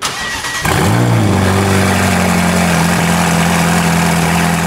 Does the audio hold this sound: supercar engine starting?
yes